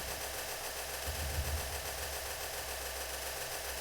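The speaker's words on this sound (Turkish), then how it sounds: "Cayır cayır patlıyor sürekli." Repeated explosions strike a vehicle under weapon fire in the TerraTech video game, forming a dense, steady burst of loud crackling blasts with a low rumble that swells midway and continues throughout.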